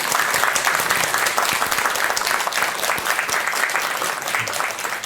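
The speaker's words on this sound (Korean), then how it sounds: "박수 한번 쳐주시자고요." Steady applause from an audience at a Buddhist lecture on the Buddhist view of life, dense clapping sustained evenly throughout without pause.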